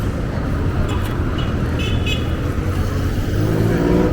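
Road traffic on a busy street in the Philippines, with a steady near wash of car and vehicle noise and short horn toots sounding over it throughout.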